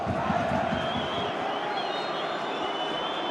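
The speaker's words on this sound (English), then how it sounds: "They're not silenced this time. It's jubilant Falkirk fans." Falkirk football fans in a stadium at a Scottish Cup match make a steady, distant crowd roar that holds without a clear peak, with no voices standing out.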